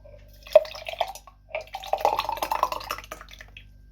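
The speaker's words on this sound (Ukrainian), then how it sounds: "Тепер наливаю кисле молоко." Sour milk poured into a container at close range, a short trickling liquid sound in two bursts with drips and a splash, fairly quiet, with no talking.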